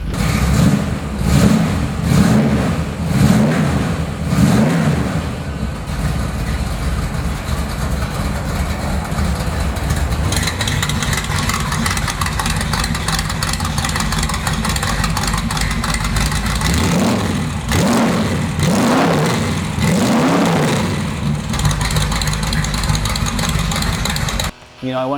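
A 1983 Buick GNX-R Pro Street with open exhaust rumbles and revs, deep throbbing engine pulses swelling and easing while a voice talks over parts of it, ending in a sudden cutoff.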